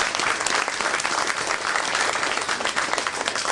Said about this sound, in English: please give Larry a applaud, a hand for this.